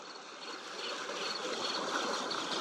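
Water rushes out at sea level in a steady, broad hiss of flowing water that gradually swells a little louder over a few seconds.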